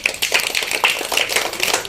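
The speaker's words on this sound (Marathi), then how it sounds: "टाळ्या वाजवा रे" Schoolchildren clap in a short burst of quick, close taps during a classroom number-reading game, rewarding a pupil's correct answer.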